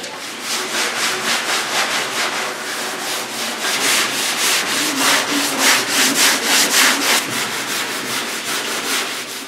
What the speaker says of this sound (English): I finished blocking it out with 80 grit